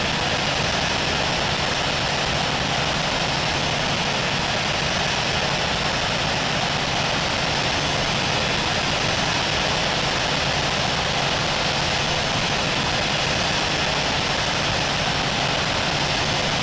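A steady, loud, unbroken engine roar from an aircraft taxiing toward runway 27 left at London Heathrow, droning evenly throughout with no other sounds standing out.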